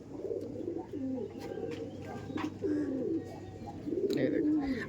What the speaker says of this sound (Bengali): এই যে তপন স্যার ন্যাড়া মাথা পায়রা, এটা নর, এটা মাদি।